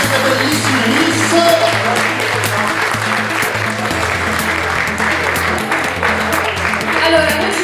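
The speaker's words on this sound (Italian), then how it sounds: "Un ultimo applauso per tutte queste bellissime miss." Sustained audience applause for Miss Principessa d'Europa pageant contestants at an event in Mestrino, a steady dense clapping bed under music and voices, loud throughout.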